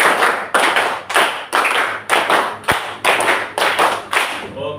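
Close, loud rhythmic hand clapping from a class during a lesson: crisp, evenly spaced claps repeat in a steady counted pattern, with no talking over them.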